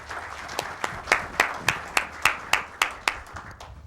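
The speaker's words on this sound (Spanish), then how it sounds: "démosles un gran aplauso a nuestros expositores" Sparse applause for the speakers at a conference presentation, a dozen or so distinct claps falling in a steady, spaced rhythm, moderately near over a quiet room.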